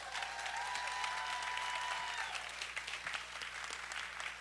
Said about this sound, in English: Huge round of applause for these candidates again,